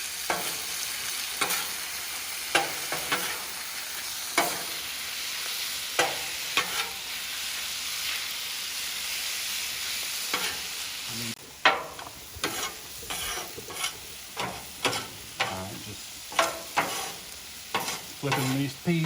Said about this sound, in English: Flipping these peas and carrots over a little bit, making sure they get good and done.